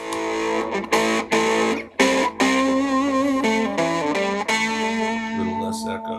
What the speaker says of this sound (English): Plug in the fuzz so you can hear what it sounds like with a little fuzzy goodness.